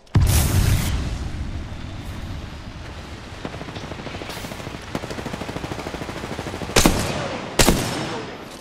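Apex Legends firefight on the Olympus map with bursts of automatic rifle fire, rapid rhythmic shots and several loud booming blasts, close and dominant with almost no speech.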